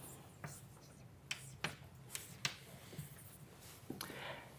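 Chalk or marker writing on a board during a mathematics lecture on homotopy, a run of short taps and scrapes at uneven intervals, close but faint against room tone.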